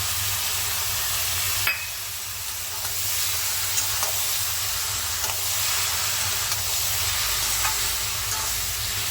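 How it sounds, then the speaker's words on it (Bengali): Poppy seed paste fries in a pan with a continuous loud hiss and sizzle, broken by a few faint clicks of a utensil, close by and with no voices. "এবার এই পোস্ত বাটাটা দিয়ে দিলাম।"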